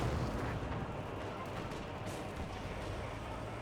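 Pak 40 anti-tank gun fire in a Company of Heroes battle, heard as a dense, sustained rumble of heavy booms and battlefield noise with no clear pauses.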